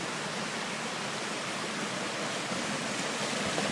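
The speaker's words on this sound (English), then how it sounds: "maybe this is the world famous Manistee River Trail waterfall. I think it is. That's about a 6-foot drop right there." A small waterfall with about a six-foot drop on the Manistee River Trail, pouring in a steady, dense broadband roar that stays close and unbroken throughout, with no other sounds.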